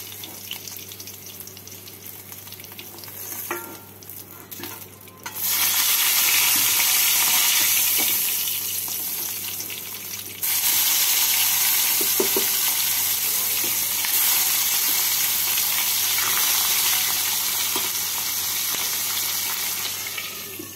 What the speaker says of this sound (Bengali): বাকি মাছগুলোকে এইভাবে ভেজে নিচ্ছি।